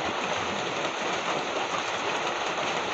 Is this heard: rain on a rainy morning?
yes